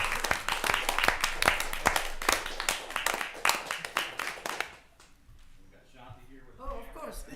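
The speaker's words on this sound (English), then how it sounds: "If you give him a round of applause." A small group at a city council meeting claps with distinct, fairly sparse hand claps for about five seconds, then the clapping stops and soft talking follows.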